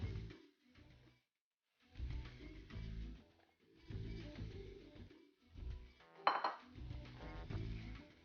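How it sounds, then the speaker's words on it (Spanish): Ground meat being added and broken up in a pan of softened, translucent onions: intermittent bursts of scraping and clinking utensil against the pan, separated by short silences, close and moderately loud with no talking. "es el momento de ingresar nuestra carne molida"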